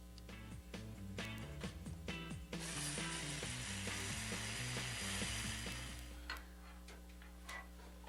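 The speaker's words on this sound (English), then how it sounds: "I'll get my electric screwdriver" An electric screwdriver drives a screw while a light fixture is upgraded, with a fast ratcheting, whirring motor that runs continuously for several seconds before cutting out, followed by a few faint clicks.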